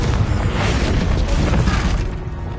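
A Confringo blasting curse from a Hogwarts video game erupts in a loud, sustained explosion, a close booming roar with shattering crackle that holds for about two seconds before easing off.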